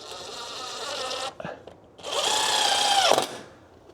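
Power drill drives screws into a Kevlar hurricane screen, two loud whirring bursts separated by a short pause with a faint click, close and without talk.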